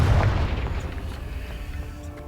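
A fiery Confringo spell blast in Hogwarts Legacy, a heavy booming burst at the start that rolls off into a long rumbling decay with no voices.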